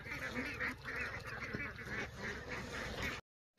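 Farm geese on rural rice-field paths honk repeatedly in a loose, overlapping chorus at moderate distance, fairly quiet overall, before the sound cuts out abruptly near the end.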